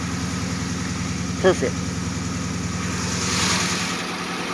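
A 5.7 Hemi V8 in a 1971 Dodge Challenger build idles close by with a steady, throbbing low pulse, while a voice speaks briefly over it.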